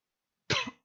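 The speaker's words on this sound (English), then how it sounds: "sorry for all the coughing." A single short, sharp cough, close and fairly loud, after a moment of silence.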